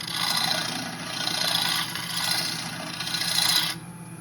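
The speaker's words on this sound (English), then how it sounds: "when we turn this on, we can flatten this out with peeling cuts" A wood lathe spins as a bowl gouge takes peeling cuts, giving a continuous loud, close hissing rasp that swells and fades in waves before easing off at the end.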